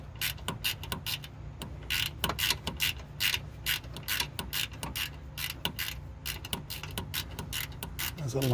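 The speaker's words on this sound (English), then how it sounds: "So it's like really in a tight spot to get this 13mm bolt off. So I'm trying to, these ratchet wrenches came in handy." A ratchet wrench clicks in quick bursts while turning a long 13mm bolt in a tight spot on a diesel truck, up close and fairly quiet, with no talking.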